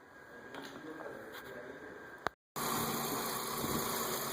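A Chevrolet Equinox 3.4L engine idles steadily after fresh spark plugs and plug wires are fitted. The even, close-up hum is briefly cut off midway, then resumes at the same level.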